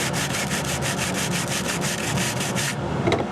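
Rapid, rhythmic rasping strokes of sanding along the trimmed edge of a carbon fiber part, loud and close, about a dozen even passes before stopping abruptly, with no talk.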